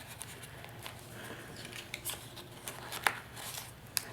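Scissors trimming paper pieces for a December Daily scrapbook album, heard as a few faint, sparse snips and light rustles over a quiet background, with one sharper cut standing out.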